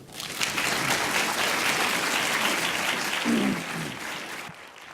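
A live audience applauds steadily to welcome Indigenous author and playwright Drew Hayden Taylor onstage, a dense, even wash of clapping that holds for several seconds before tapering off at the end.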